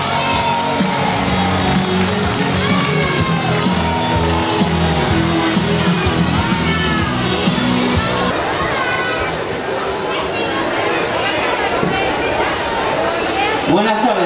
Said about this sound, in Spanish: al que tenemos que recibir con un fortísimo aplauso